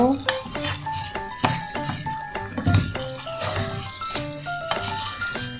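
Chicken rice stirred in a pan, with a steady sizzle and rattling scrapes of a utensil against the metal in quick irregular strokes, close and fairly loud and no speech over it.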